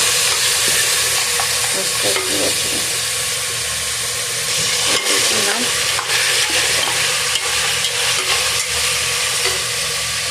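Bottle gourd and a fish head sizzle and fry in a pan on a gas stove, with continuous close hissing and repeated scraping stirs throughout.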